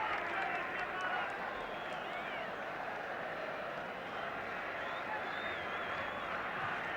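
A tremendously noisy football crowd in a stadium at a Northern Ireland versus England match, a dense continuous roar with rising cheers and whistles, while commentary runs over it.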